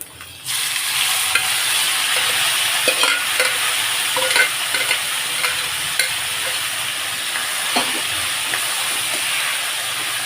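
Urad dal sizzling and being stirred in hot oil in a pan, a steady bright hiss with scattered scraping ladle clicks throughout, close and fairly loud.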